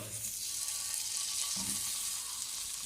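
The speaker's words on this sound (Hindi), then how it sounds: "पहले बटर ऐड करेंगे इसमें।" Butter sizzles steadily in a pan before chicken goes in to fry, a constant close bright hiss with a couple of brief low bubbling pops and no talking.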